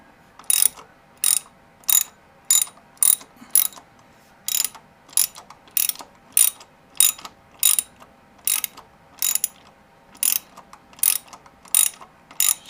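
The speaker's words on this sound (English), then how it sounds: "I'm using a 8 mm hex" A ratchet with an 8 mm hex bit clicks in quick, evenly spaced bursts, close and crisp, as it backs out a cylinder head guard bolt on a Ducati Multistrada V4 Rally, about two dozen strokes with quiet gaps.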